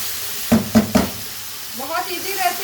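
Mutton keema stuffing is stirred in a pan, giving three quick scraping strokes up close followed by softer sizzling and scraping.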